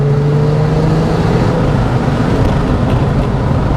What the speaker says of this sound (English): When it comes to induction noise, it's top shelf, and it enhances this exhaust